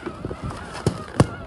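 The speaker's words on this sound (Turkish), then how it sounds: "Balonları şimdi de böyle patlatmaya çalışıyorlar." Balloons at a children's birthday party burst by a kids' battery-powered ride-on toy car: two sharp, loud pops close together near the end, after softer bumps and thuds, with faint background noise.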